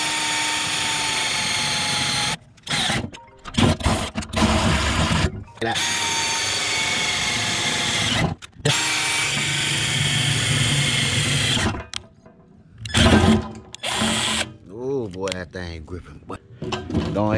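A power drill bores through metal, its loud steady whine running in long bursts broken by short pauses, with speech in between.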